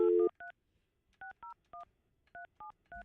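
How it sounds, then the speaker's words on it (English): Touch-tone telephone dialing: a brief opening tone, then a sequence of short, evenly spaced DTMF beeps punched in one after another, close and clear against a silent background. "Let me see if I can get Chloe on the phone."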